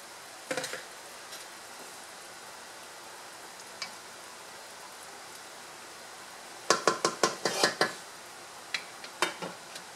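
Chunks of calabash (upo) dropping into a pot of pork and rice noodle soup, a cluster of sharp clatters and splashy knocks near the middle, then a few scattered clinks of pot and utensil, close by with no talk.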